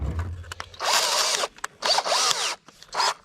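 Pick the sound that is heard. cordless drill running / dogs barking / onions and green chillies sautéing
cordless drill running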